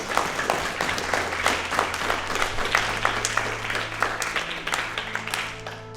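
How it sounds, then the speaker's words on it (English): Applause rises at a school speech day, a crowd clapping steadily in a dense patter that carries on throughout before thinning near the end. "Let's give Teal and Naming a big round of applause."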